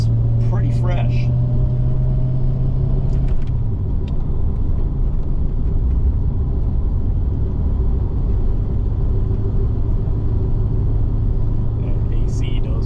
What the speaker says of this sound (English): These 5-liter small blocks are indestructible motors.